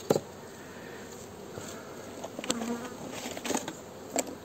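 Honey bees hum softly at an opened hive during a February inspection, a faint continuous buzz with a few brief louder passes and light handling noises close by.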